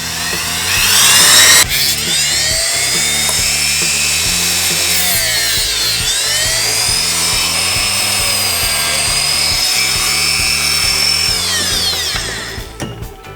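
A Dremel rotary tool whines at high speed while cutting through a turbo oil feed line, a loud, close grinding buzz with shifting pitch as the bit bites, running continuously before winding down.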